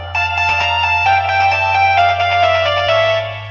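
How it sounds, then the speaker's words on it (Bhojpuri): A mobile phone ringtone plays continuously, loud and close, as a steady electronic melody with repeating tonal notes and no voices over it. "कहीं मोबाइलिया हमार बजत है का हो?"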